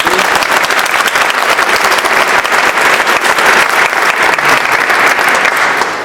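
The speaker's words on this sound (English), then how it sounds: "One more final applause for them." A crowd gives loud, sustained applause at an event honoring support for mental health services, thick and continuous clapping from many people with no break.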